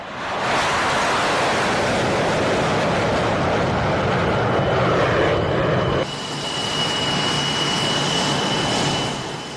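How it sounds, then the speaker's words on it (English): French Air Force Mirage 2000 jets pass over an airshow at IWM Duxford, a loud broad roaring rush that swells and holds with a sustained whine as they go by. "Mirage 2000s from the French Air Force."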